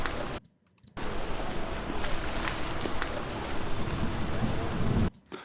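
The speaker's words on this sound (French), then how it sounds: "ici, il y a la pluie" Steady, dense rain plays as a sound effect in a film mix, a loud wash of hiss with spattering drops, broken by a short gap near the start and cut off just before the end.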